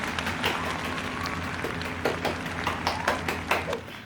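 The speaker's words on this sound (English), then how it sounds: "let's just give everybody who read tonight a huge round of applause" A small audience at a literary launch party applauds the evening's readers with scattered, uneven clapping, moderately close, and a faint murmur of voices underneath.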